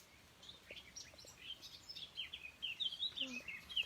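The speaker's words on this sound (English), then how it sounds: "The blackbird warbling along," A blackbird warbles in a French garden at half past six on a rainy morning, its phrases scattered and fairly close, rising and falling in short bursts with a few other faint chirps over soft background hiss.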